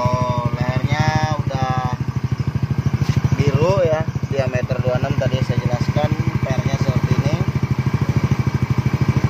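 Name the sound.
Yamaha Mio J motorcycle idling with SKR racing exhaust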